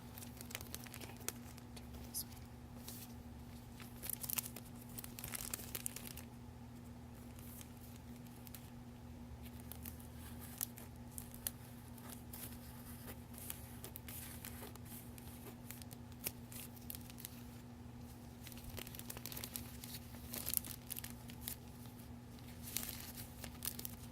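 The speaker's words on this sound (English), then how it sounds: "So now I'm just going to be cutting the file" Scissors snip through a file in a quiet ASMR-style setting, soft crisp cuts and faint paper crinkling repeating at irregular intervals over a low steady hum, close and gentle.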